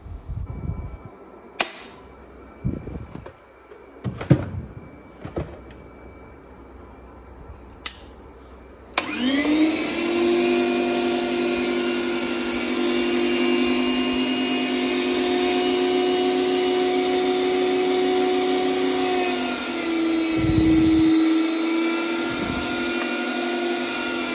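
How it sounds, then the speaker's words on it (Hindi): A Panasonic electric meat grinder grinds boneless meat, a loud, steady motor whine with shifting pitch running continuously for over fifteen seconds after scattered clicks and handling knocks at the start. "पैनासोनिक का ये मीट ग्राइंडर"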